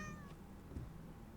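A cat meows once, briefly, in the psychological horror game Burnhouse Lane, faint against a low ambient hum.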